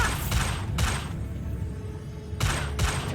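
In the video game Hogwarts Legacy, a Bombarda spell blast erupts as two loud, crackling bursts separated by a quieter gap of about a second.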